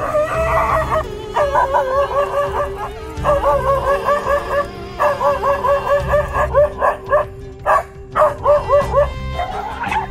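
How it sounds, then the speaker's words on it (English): A dog barks fiercely in repeated rapid bursts, loud and close, with yips and whimpering howls mixed in and a few sharper isolated barks toward the end. "the dog's courage made him stand bravely and bark fiercely"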